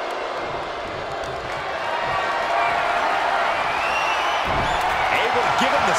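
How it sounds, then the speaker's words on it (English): A wrestling crowd in the WWE 2K23 video game cheers in a continuous roar that swells partway through, with a commentator talking over it. "The prototype switching to fan mode and is getting the crowd hyped."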